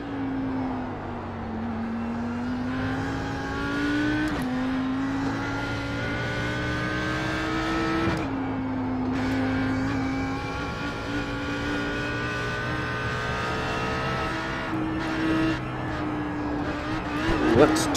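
An Audi R8 GT3 race car lapping Bathurst in a racing video game drones loudly and steadily, its engine pitch climbing through gears, dropping at shifts and rising again, with brief tire squeals.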